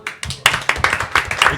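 A few studio hosts clapping for a caller on an overnight live show, a quick, close run of sharp claps with a regular rhythm, no talking over it.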